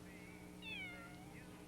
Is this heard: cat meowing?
yes